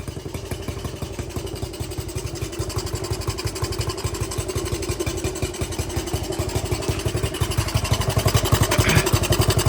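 A dirt bike engine idling steadily with a fast, even putter of firing pulses, loud and close, the idle rising slightly toward the end.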